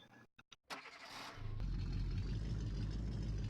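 A Ford F100 pickup's engine cranks and catches after a few brief bursts, then settles into a loud, steady, low running rumble close by.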